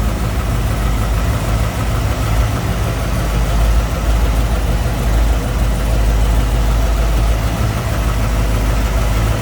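A 1963 Chevrolet Impala hardtop's V8 idles steadily up close, fitted with a Holley 4-barrel carburetor, MSD ignition, aluminum heads and headers, giving a loud, deep, even rumble throughout with no one speaking.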